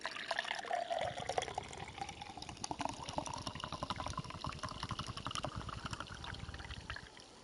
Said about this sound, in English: A beautiful pour, if I do say so myself.